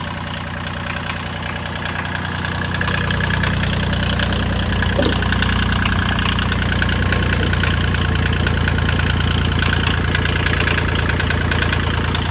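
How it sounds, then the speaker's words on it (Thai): A Kubota L2201DT 4WD compact tractor diesel engine starts and settles into a loud, steady idle, its close rhythmic knocking chug holding even throughout. "ถ้าดับแล้ว ลองสตาร์ทอีกครับ คราวนี้ไม่ต้องเผาหัว"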